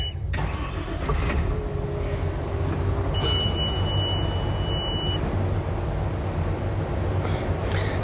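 An engine on a steering-equipped vehicle, just rebuilt and checked for leaks, cranks over and catches, then runs at a steady, loud, low rumble throughout with no talking.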